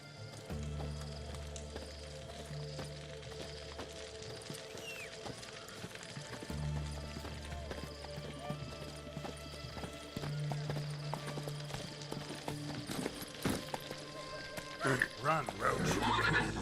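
The horse Roach galloping in The Witcher video game, a steady clip-clop of hoofbeats under game music, with a louder rush of sound near the end and a voice talking.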